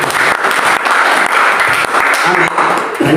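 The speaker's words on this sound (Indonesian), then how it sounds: "berikan tepuk tangan buat Tuhan" A church congregation claps loudly and steadily during worship after the pastor's sermon, dense close applause with voices mixed in under it.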